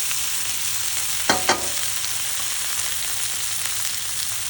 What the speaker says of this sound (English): I'm going to keep the flame on low to medium, and I will stir occasionally.